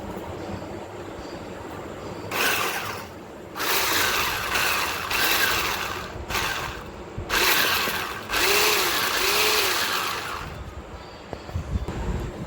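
An electric beater whips sugar into cream for a vanilla cream cake. Its motor whirs and churns in several bursts a second or two long, with quieter gaps between them, close and steady.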